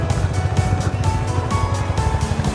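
A Honda CB350 motorcycle is ridden on the road, its engine giving a close, steady pulsing thump with a continuous wind-blown rush over it and no talk.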